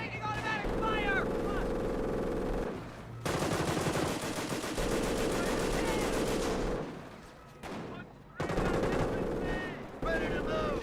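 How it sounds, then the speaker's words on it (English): Automatic gunfire from a Company of Heroes 2 battle, dense sustained bursts and fusillades stopping and restarting several times, with radio-style voice chatter woven through the shooting. "Taking automatic fire."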